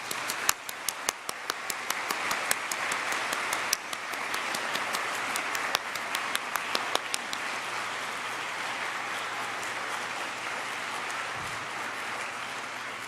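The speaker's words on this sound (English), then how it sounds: "I want us all to give our wonderful graduating students another round of applause" Steady applause from an audience at a nursing graduation ceremony, a dense wash of many hands clapping with sharper individual claps popping through, sustained at even loudness throughout with no talk.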